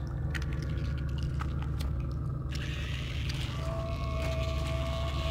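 Creatures chewing and squelching as they eat the player in the Little Nightmares video game, wet biting and squishing sounds over a constant low rumble, close and fairly quiet.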